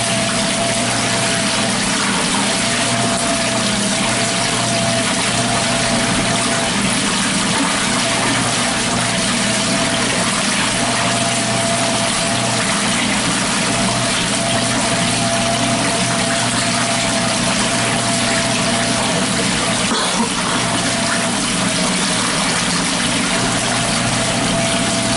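A pump drones steadily while water pours and gushes into a Laundry Alternative Superpop portable washing machine, a constant mechanical hum with a faint whine running underneath the whole time.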